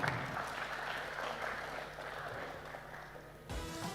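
Sustained applause from a crowd at an Indonesia Stock Exchange IPO listing ceremony, a dense steady wash of clapping that runs for several seconds before cutting off abruptly near the end.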